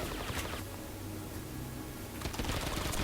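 Gunfire in a zombie shooting video game, a dense, steady crackle of shots running nonstop and loud throughout, with heavier bursts near the end.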